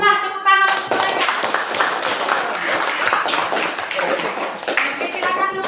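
A class of students claps for a student group in a school classroom, a dense burst of handclaps with children's voices mixed in, steady and close throughout.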